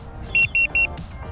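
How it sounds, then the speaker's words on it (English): Electric skateboard remote on a Mini Boosted board signalling mode 3 with three quick, evenly spaced electronic beeps, bright and close over a low rumble of wind. "3 buttons, 3 beeps."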